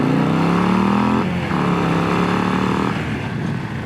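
A 2025 Harley-Davidson Low Rider ST High Output motorcycle accelerates on a demo ride, its loud, close engine revving and climbing in pitch before dipping briefly as it shifts, then pulling on again.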